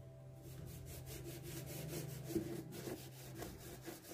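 Scrubber rubbing eggshell-and-salt paste across a metal kitchen sieve, a steady back-and-forth gritty scraping that runs continuously at close range, with no voices.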